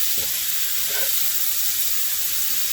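Mushrooms sizzle and fry steadily in a fat-coated pan as they are stirred constantly, a continuous close hiss with faint scraping.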